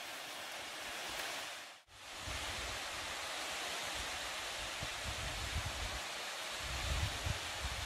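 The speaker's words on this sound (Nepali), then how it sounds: "सिन्धुली जिल्लामा रहेको सरस्वती झरना धेरै नै राम्रो झरना" Saraswati waterfall in Sindhuli district roars as a loud, steady, close wash of falling water, briefly cut out near the start, then continuing unbroken with faint low rumbles.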